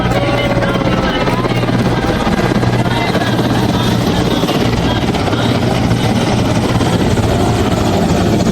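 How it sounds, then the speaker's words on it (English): Military helicopters fly in formation over a parade ground in Delhi, a loud continuous rotor thump and engine drone that stays steady throughout, with faint voices beneath. "helicopters flying in the first formation"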